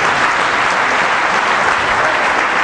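A church congregation at a Sunday service applauds, a dense, loud, continuous clapping of many hands that fills the room without letup.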